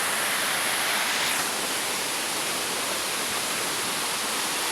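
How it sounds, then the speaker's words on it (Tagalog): Matambag Falls pours in a steady, full roar of broadband rushing water, close and constant throughout, with no voices over it. "Okay, Matambag falls po yan."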